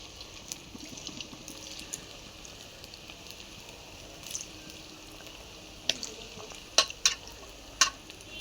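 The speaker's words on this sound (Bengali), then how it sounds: "চলো ততক্ষণ চিকেনগুলো ভাজা হোক," Chilli chicken pieces fry in hot oil in a wok, a faint, steady close sizzle with a few sharper spatters and clinks toward the end.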